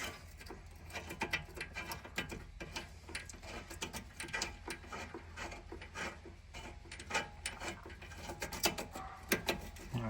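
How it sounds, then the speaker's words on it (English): A wrench ratchets and clicks as a bolt is loosened on the front strut of a 2003-2008 BMW Z4 E85, rapid uneven metallic ticks and scrapes, close up and fairly quiet. "right here you can see I'm loosening up that bolt"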